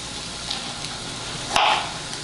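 Chicken stir fry vegetables sizzle in a hot pan, a steady close hiss with a brief louder burst as fresh pieces are tossed in near the end, no voices.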